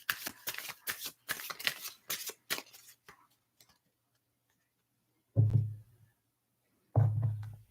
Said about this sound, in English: let's just give these a quick shuffle